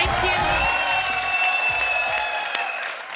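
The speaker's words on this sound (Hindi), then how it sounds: "जोरदार तालियां हो जाए।" A studio audience on The Kapil Sharma Show bursts into loud, sustained applause with scattered cheers and whoops as the Rustom cast arrives, the dense clapping holding steady before easing off slightly at the end.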